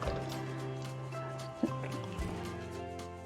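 Soaked bread pudding mixture is poured into a mould, making soft wet drips and sloppy splats. A steady tonal hum runs underneath.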